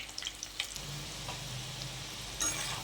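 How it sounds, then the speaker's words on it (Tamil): Baby corn frying in oil, a soft continuous sizzle with faint crackles and the occasional scrape of a stirring spoon, quiet and close. "எல்லா பக்கமும் சேர்ந்து நல்லா பொரிஞ்சு வரட்டும்"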